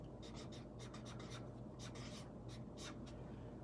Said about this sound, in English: I'll write it right underneath